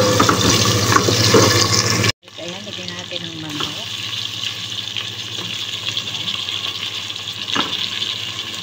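Onion and garlic hit a hot pan and start sautéing with a steady sizzle after a brief pause, close and continuous, with a few scraping sounds.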